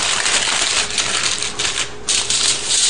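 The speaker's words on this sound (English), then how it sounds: "what I'm going to do is seal these in heavy foil" Heavy foil crinkles and crumples continuously as it is folded over food to form a tight seal, a close, loud crackling texture with a brief pause partway through.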